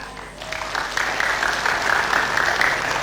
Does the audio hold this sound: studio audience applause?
yes